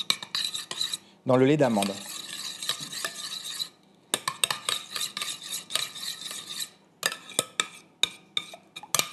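Gelatin is stirred into almond milk for a praline Christmas log. A utensil clinks and scrapes against a bowl in quick, irregular taps and swirls, close up, with brief pauses and a short spoken phrase near the start.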